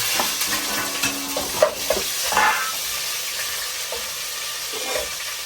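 Pav bhaji with tomatoes sizzling in a pan over a lowered gas flame, a loud continuous frying hiss with scraping stirs and clinks near the middle, no talk.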